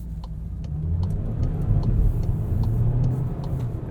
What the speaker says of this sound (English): There's definitely a good amount of delay off the line when you're accelerating.